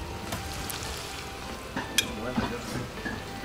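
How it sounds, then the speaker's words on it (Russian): Food frying in a pan with tomato paste is stirred, a steady close sizzle under scraping and clinks of a utensil against the pan for several seconds. "И сейчас мы все перемешаем и дальше добавляем томат."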